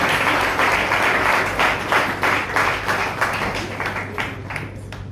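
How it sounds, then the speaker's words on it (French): A café slam poetry audience applauds a poet: loud, dense clapping that holds steady, then thins out and fades near the end, with a low steady hum beneath. "On applaudit très très fort pour lui, s'il vous plaît."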